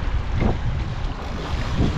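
Strong wind buffets a fishing boat offshore in a massive storm. The gusts are loud and continuous, roaring and rumbling with heavy microphone noise and a wash of waves, and no voices are heard.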